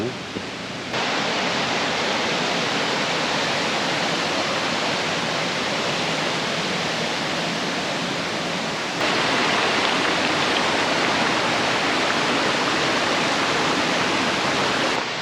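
A cool mountain valley stream in the Yongchu valley on Daeyasan, South Korea, rushes loudly and steadily throughout as a broad, unbroken roar that grows slightly louder partway through, with no voices.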